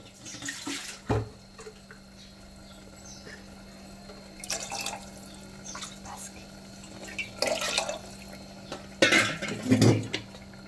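Water pours into a pot of rice in a few short splashy bursts, with light clinks of cookware and a steady low hum in the background.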